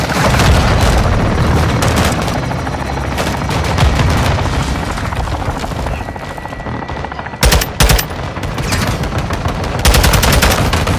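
Artillery fire mission explosions and heavy gunfire in the video game Modern Warfare 2, a loud, dense barrage of booms and rapid bursts running throughout, with brief sharp blasts near the end.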